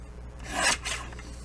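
A paper strip about 2.5 inches wide is cut for a trifold journal card, making a single short rasping slice of the blade through paper, close and quiet, with no talking.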